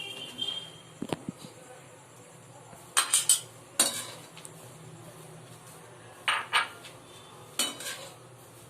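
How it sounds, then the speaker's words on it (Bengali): A utensil clinks and scrapes in a pan in several separate bursts as potatoes are added and stirred for a milk paneer dish, over a quiet background with a faint low hum. "এবার আমি এর মধ্যে দিয়ে দিচ্ছি আলুটা।"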